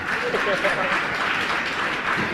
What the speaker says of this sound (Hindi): देखो अपनी ढोंग पर कैसी जबरदस्त तालियां बजा।